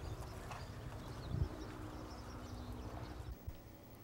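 A horse walking during a riding lesson, its hooves clip-clopping in a steady, fairly close rhythm, with no talk over them.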